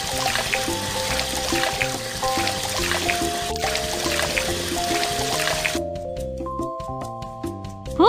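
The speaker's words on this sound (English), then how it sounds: "Put water inside the pot." Water pours into a cooking pot for boiling Maggi noodles, a continuous splashing fill that gives way near the end to quieter, sparser dribbles with short tonal ringing.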